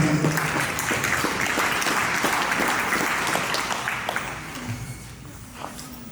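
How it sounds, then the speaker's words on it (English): Sustained applause from a crowd at a Holstein dairy cattle show, dense clapping close by that gradually thins and fades, with a little background voice underneath. "please give yourself a big round of applause as a quality presenter"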